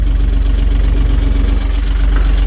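A tractor with an air-conditioned cab mowing grass in a small palm plantation idles and runs from inside the cab, a loud, steady low engine drone with constant vibration.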